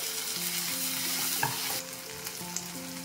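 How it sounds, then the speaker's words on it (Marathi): Tomato puree and cumin stirred and frying in a pan for a dhaba-style mixed vegetable dish: a continuous close sizzle with a spoon knock, over quiet background music. "आणि आपण ही जी प्युरी बनवली ना ती ऍड करूया। जिरं,"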